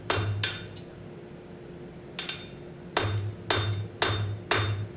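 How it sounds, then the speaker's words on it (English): Hammer forging hot steel on an anvil: sharp metallic strikes ring out close and loud, two early, a pair near the middle, then four evenly paced blows, each with a bright ringing decay. "You can start forging that out. Got a little bit of a crookedness here. Why? I hit it crooked."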